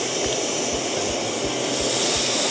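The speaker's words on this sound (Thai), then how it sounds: "นำหมูลงย่างเลยนะคะ" Marinated Thai pork skewers (moo ping) grilling in a pan over medium heat, giving a steady, loud, dense sizzle with a constant hiss throughout and faint low thumps, no talking.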